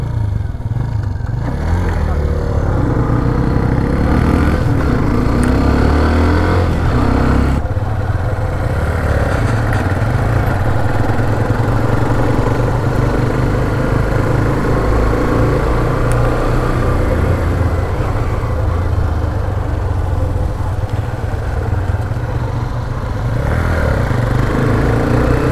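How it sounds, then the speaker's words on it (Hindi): Steady engine drone of two 125cc motorcycles, a Hero Xtreme 125 and a TVS Raider 125, riding side by side; rumbling low tones, continuous and loud throughout. "दोनों बाइकों को हम बिल्कुल बराबर में चला रहे हैं"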